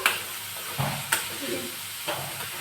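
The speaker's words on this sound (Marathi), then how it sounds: "बरो तळसून घेवपाचो।" Onions frying in a pan for Goan prawn sukha, a constant bright sizzle with a few scraping stirs of the spatula, close and moderately loud, no talk.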